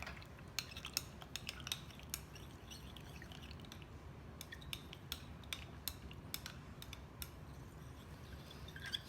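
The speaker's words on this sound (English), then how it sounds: "Give that a good stir." Utensil stirring strawberry mica into a little rubbing alcohol in a small container for melt-and-pour soap, with quick, faint clinks and scrapes in irregular bursts over a soft steady background.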